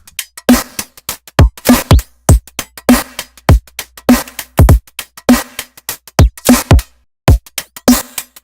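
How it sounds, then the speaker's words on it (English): Repeated short percussive hits in a steady pattern, processed through Ableton's Erosion effect, harsh and gritty with a crunchy, degraded, noisy edge, loud and alone. "It like degrades your sound, it makes it trashy, it makes it noisy"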